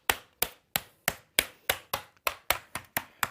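Someone taps a banner box frame by hand while tensioning a replacement vinyl background, making about a dozen sharp, close knocks in a quick, fairly even rhythm, each fading fast.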